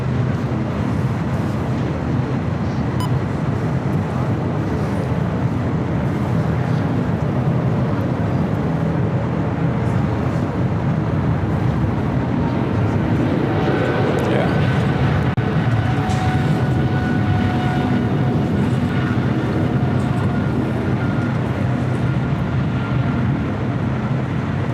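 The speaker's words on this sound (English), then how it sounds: "It's like Aerologic 777 freighter now rolling, I think." Heavy broadband jet roar from an Aerologic Boeing 777 freighter rolling for takeoff, steady and loud for the whole stretch with a faint rising whine midway, heard from an airport vantage near the runway.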